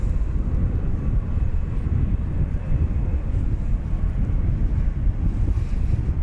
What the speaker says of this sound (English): As we watch American Airlines Flight 1215 coming in from Puerto Vallarta